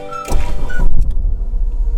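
A Renault Clio IV starting with brake and start button: a brief starter whir and chime-like tone, then the engine catches into a loud, low rumbling idle, with a sharp click at the end.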